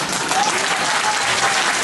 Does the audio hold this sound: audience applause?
yes